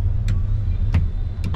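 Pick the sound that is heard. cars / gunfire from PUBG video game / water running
cars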